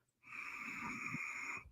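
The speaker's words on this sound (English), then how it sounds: "eventually now you have to do it with your lips sealed" One slow, soft breath drawn through the nose with the lips sealed, deep diaphragm breathing with a faint, airy hiss lasting just over a second.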